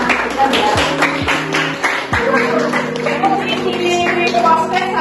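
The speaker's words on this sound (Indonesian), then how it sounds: "Oke, tepuk tangan dulu untuk kita ya." Children clap hands amid lively chatter and a music-like tonal background in a classroom, loud and close.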